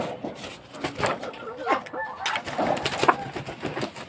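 Hens cluck softly in short bursts, fairly close, with a few sharper calls among quiet rustling background noise.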